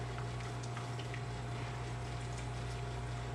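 Nitro cold brew coffee is poured hard from a freshly opened can into a glass, giving a steady, loud, continuous rushing gush of liquid that lasts without a break from start to end.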